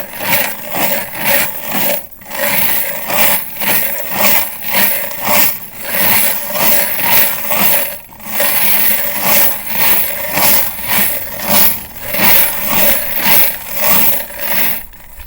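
A wet/dry media separator spinning brass cartridge cases, a continuous rattling churn with a regular rolling pulse, loud and close throughout.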